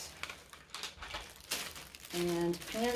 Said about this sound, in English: I have a lot of packages to open.